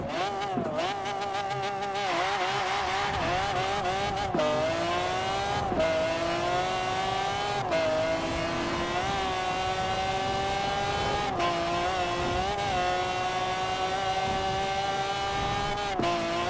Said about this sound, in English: Screaming BMW V12